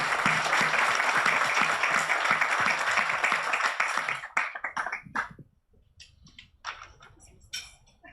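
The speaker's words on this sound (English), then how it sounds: "if everybody could join me in giving them a huge round of applause" An audience at an environmental, social and governance awareness session claps for the panelists, loud and dense for about four seconds before fading into scattered claps, taps and shuffling.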